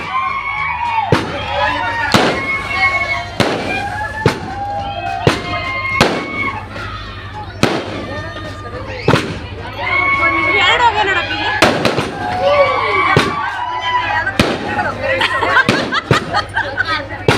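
Firecrackers explode at a village festival for a new village goddess idol installation, with loud sharp bangs going off in a rapid, uneven string throughout while a crowd chatters underneath.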